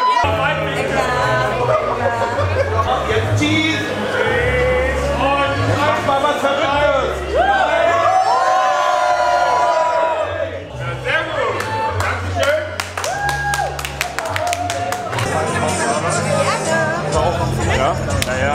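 Crowd at a big fight event clapping and cheering in a dense, continuous roar, with voices talking over the noise throughout.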